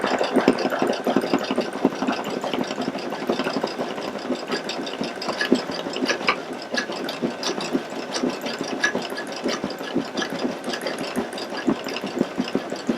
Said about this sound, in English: We're just going to hold this while it stitches.